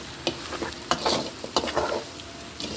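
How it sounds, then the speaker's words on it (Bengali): A spoon stirs five-spice powder through olive pickle in a pan, making soft scraping sweeps with a faint sizzle underneath, close and fairly quiet, in several separate strokes. "এই যে দিয়ে আবার নাড়াচাড়া দিয়ে দেব।"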